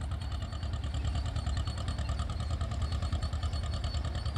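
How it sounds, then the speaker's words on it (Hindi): Escort 335 tractor engine running steadily on a farm, a continuous low rumble with even pulsing throughout, fairly close and alone without talk. "वो ट्रैक्टर चला रहा है"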